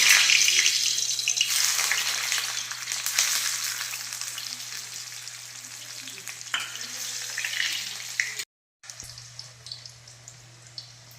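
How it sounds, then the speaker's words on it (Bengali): Boiled new potatoes frying in hot oil in a home kitchen, a steady loud sizzle with occasional stirring scrapes, briefly cutting out near the end before the sizzling resumes. "এবার আলুটা ভেজে নেব।"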